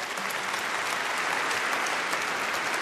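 An audience in Melbourne Town Hall applauds at a radio show's final broadcast: dense, steady clapping that fills the room from start to finish.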